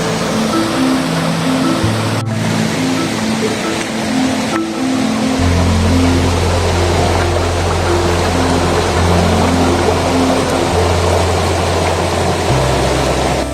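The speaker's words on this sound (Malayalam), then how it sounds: "എന്തിനു വേറെ, ആ വെള്ളം ഒഴുകുന്ന ആ സൗണ്ട് തന്നെ മതി" Water flows over rocks at Kalyan Oru waterfall near Valanchery in a loud, constant rushing roar, with low steady tones running beneath it throughout.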